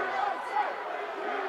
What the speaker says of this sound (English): And the crowd's going crazy.